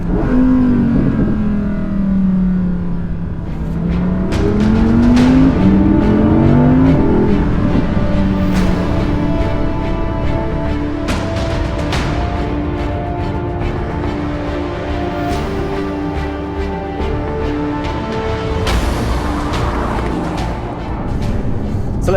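Audi R8 RWD Performance Edition supercar revving and accelerating hard, a loud sustained engine note climbing in pitch through gears, close up with no talking.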